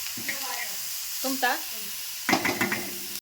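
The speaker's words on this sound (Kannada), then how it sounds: "ಈ ರೀತಿ ತಿರುಗಿಸಿ ತಿರುಗಿಸಿ ಸುಡ್ಬೇಕು ರೀ" Tomatoes roasting in a pan for chutney, turned over and over: soft sizzling with bursts of stirring and scraping, interrupted by brief clattering strokes, near and moderately loud.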